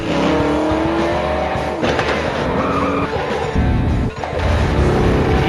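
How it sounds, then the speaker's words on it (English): Real cars racing at full speed in a staged chase, engines roaring loud and steady throughout with brief tire squeals and whooshing passes, no voices. "the most exciting car chase action sequence to ever be put on film"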